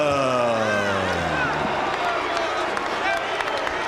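A large boxing arena crowd for an IBF light heavyweight title fight cheers steadily and loudly, a dense continuous roar with whoops throughout, at close range.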